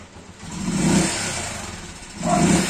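Motorcycle engine revving in two surges as a learner rider works the clutch, the mid-pitched roar rising, easing off, then swelling again, loud and close with no talk.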